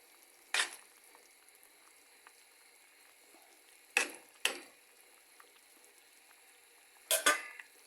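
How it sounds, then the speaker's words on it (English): Salt mackerel dropped into a pot to cook gives a few sharp, separate clatters and splashes, with quiet stretches of faint sizzling in between. "Now I'm gonna put in my salt mackerel."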